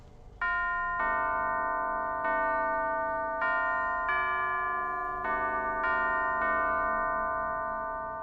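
A melodic run of ringing bells, played in sequence to open a door in the video game Alice, with about eight loud strikes at an unhurried pace whose tones sustain and overlap before fading.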